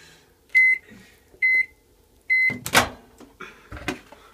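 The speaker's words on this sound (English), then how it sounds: "How long should we put in the microwave, Ben?" Microwave oven set to heat a dish of Rice Krispies and peanut butter: three evenly spaced keypad beeps, then a few clunks and knocks from the door and the start, close by with no talk.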